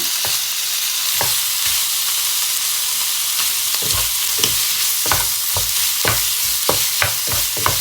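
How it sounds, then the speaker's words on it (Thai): Marinated pork being stir-fried in a pan, a dense, bright, continuous sizzle close by with rhythmic scraping strokes of the spatula recurring every half second or so, with no talking. "ก็เราก็มาผัดหมูนะคะ ผัดหมูให้"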